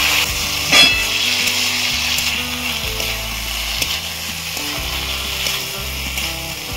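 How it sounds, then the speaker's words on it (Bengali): A spoon stirs fish curry with fresh cauliflower and beans in a pan after a little water goes in, a moderate bubbling sizzle with soft irregular scrapes and clinks throughout and no voices. "সামান্য জল দেবো, আমি নাড়াবো, তাহলে ভালো করে সব মিশে যাবে।"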